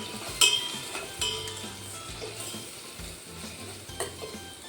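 Leftover chapathi pieces being stirred with chili powder and garam masala in a frying pan, a spoon scraping and clinking against the metal over a soft steady sizzle, close and alone.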